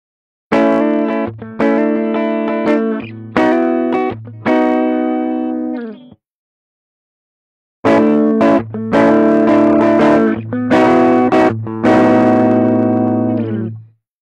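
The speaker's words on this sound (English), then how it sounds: "First, I'll play both pickups on in parallel, like normal, and then I'll play both pickups in series with one another." Electric guitar with Jimmy Page wiring played through an amp, first a short phrase with both pickups in parallel, then after a pause the same phrase in series, louder, darker and more driven, with no talking.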